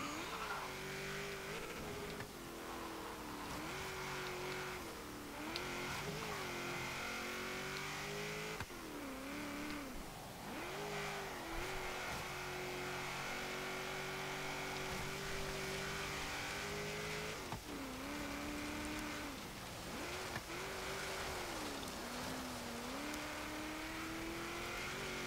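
A stock 1977 AMC Pacer X in Forza Horizon 3 runs an autocross course. Its engine drones steadily and close, with the pitch climbing and dipping as it revs and shifts. A few brief tire squeals break through.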